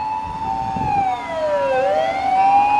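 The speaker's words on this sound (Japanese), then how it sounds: "救急車がね信号無視です" An ambulance siren wails loudly and close by, its pitch sliding down and back up over steady traffic noise.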